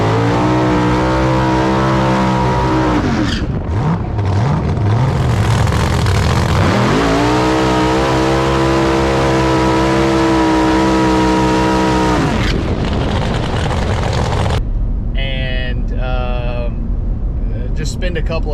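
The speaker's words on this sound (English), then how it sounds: "Get to do long, smoky burnouts" Pro Mod drag car Lucille doing long, smoky tire-scuffing burnouts, the engine roaring at high revs in sustained bursts, cutting off between runs, with talk over it.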